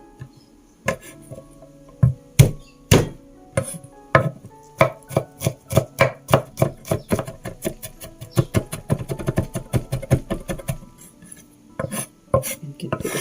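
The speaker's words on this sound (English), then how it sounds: "for the ginger and garlic we just chop it finely." A knife finely chops ginger and garlic on a board for Malaysian curry puffs, sharp rapid chopping taps that speed into a dense, steady rhythm, close and loud with no talking.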